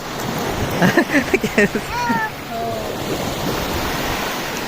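Sea waves wash up on Devbag Beach with a steady surf roar and wind rushing past the microphone, while people shout and call out briefly over the water before it settles back to continuous wash.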